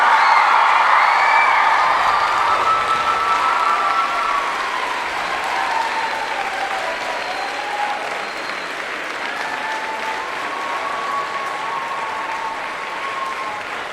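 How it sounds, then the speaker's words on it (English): Loud, sustained applause with some cheering from a large audience in Snape Maltings Concert Hall, steady throughout and slowly easing off toward the end. "Everyone's been asking you to clap,"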